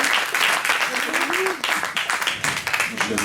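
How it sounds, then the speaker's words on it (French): Applause from the audience at a French round-table discussion, moderately close and fairly loud, with a voice talking over the clapping throughout. "Je crois qu'on peut l'applaudir."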